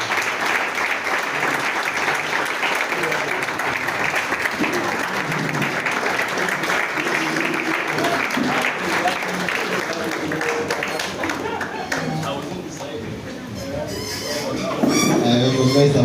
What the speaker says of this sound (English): A more resounding applause for him.